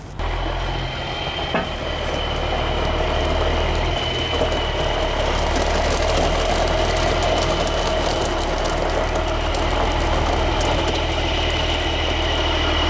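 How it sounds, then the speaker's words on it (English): Forklift engines idling with a steady low drone throughout, a constant mechanical hum and faint higher whine, no talk. "we're going to try to unload this boiler and this steam engine with the forklifts"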